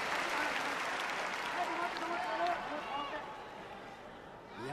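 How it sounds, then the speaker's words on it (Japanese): At Ariake Coliseum, a pro wrestling arena crowd chants Naomichi Marufuji's name in a loud, sustained roar during a NOAH match, with a commentator talking over it. "丸藤コールが有明コロシアムに起こっている"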